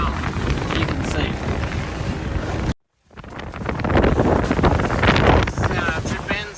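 A small two-stroke outboard boat pushes slowly through rough sea with big waves breaking over the bow, wind buffeting loudly throughout with a brief dropout midway, and a voice talking over the roar.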